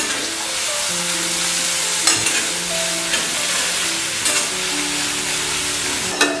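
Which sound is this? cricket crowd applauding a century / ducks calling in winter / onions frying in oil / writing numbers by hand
onions frying in oil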